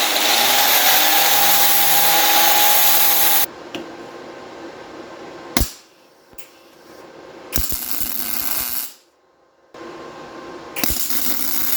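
A grinder cleaning up a U-joint runs in loud, broadband bursts: a long continuous grind, then several shorter passes separated by gaps and sharp clicks, close and without talk.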